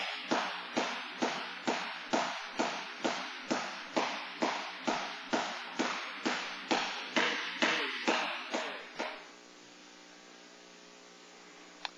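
Jump rope slapping the floor in a steady, even rhythm, about two hits per second for nine seconds, crisp and close, then the skipping stops and only a low hum remains.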